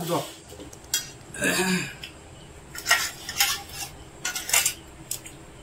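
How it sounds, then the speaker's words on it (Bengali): Spoonfuls of fish curry served onto plates at a family meal: a few light clinks and scrapes of a spoon against dishes, close by, interleaved with conversation. "আমি এখন মাছের ঝাল দিয়ে দিচ্ছি।"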